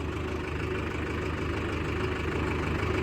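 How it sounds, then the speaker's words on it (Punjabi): A tractor engine runs at a steady idle close by, giving a continuous low, throbbing hum with a faint knocking rhythm and no talk over it. "ਬਾਬਾ ਟਰੈਕਟਰ ਕੌਣ ਚਲਾਉਣ ਡਿਆ ਵਾ"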